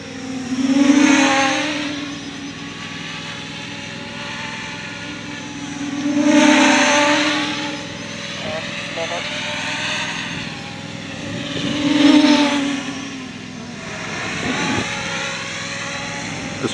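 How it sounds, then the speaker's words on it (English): A Mini X FPV quadcopter drone hovers with a steady propeller whine, swelling into a louder oscillating surge roughly every five to six seconds, near and alone without talk. "Getting a little bit of oscillation sound in the propellers"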